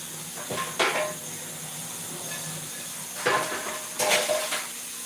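Food being rinsed in a colander at a home kitchen sink, with a steady hiss of running water broken by a few brief clattering bursts of dish and colander contact, close by and with no talking.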